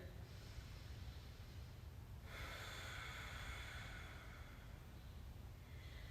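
Slow breathing in and out through the nose during a yoga pose, one soft, airy exhale rising faintly above a low, steady background hum.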